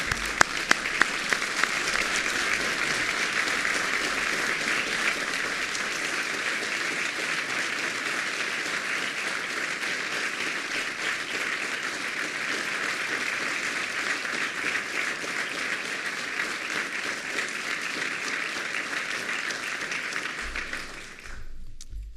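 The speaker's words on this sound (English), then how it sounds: "Let's give both families a big round of applause." Ceremony audience at a White House Medal of Honor presentation for Korean War heroes applauds the honorees' families, sustained, even clapping for about twenty seconds before abruptly fading out.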